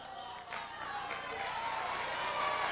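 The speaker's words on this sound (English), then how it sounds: "Getting the sympathy applause." Scattered applause and low crowd noise from the audience at a 1991 IPW pro wrestling TV show, a steady wash of clapping with no talk over it.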